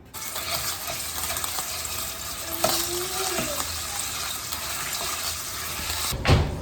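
Italian sausage browning in a pot for chili, a continuous moderate sizzle with a few utensil scrapes and a tonal squeak partway through, ending in a sharp clank.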